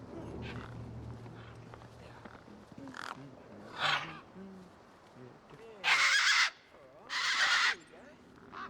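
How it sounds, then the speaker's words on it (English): Desert birds in the video game Beyond a Steel Sky give a few harsh, loud caws in short bursts, the last two longest and nearest, over quiet ambient game sound and faint voices. "These were tough desert birds."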